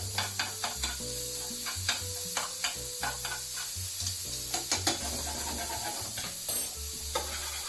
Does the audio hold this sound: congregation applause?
no